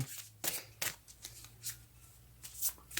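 Moonology oracle cards being shuffled by hand: a close, quiet run of crisp riffling bursts and soft slides in an uneven rhythm, with no talking.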